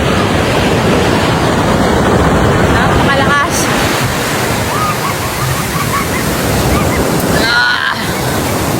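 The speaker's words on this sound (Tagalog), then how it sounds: "Sobrang lakas ng alon." Loud, continuous crashing surf with heavy wind noise buffeting the microphone, a dense roar of rough ocean waves close by, on a windy, rainy, cold coast in Quezon Province.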